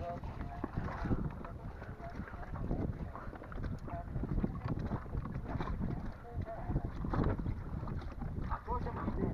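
Strong gusting storm wind buffets the microphone in loud rumbling bursts on a sailboat trip, with people talking underneath and occasional knocks.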